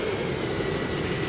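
Steady, loud jet engine roar from a fighter in the Strike Fighters 2 flight simulator during a low flyby at 800 feet, a constant unbroken wash of noise with no voices.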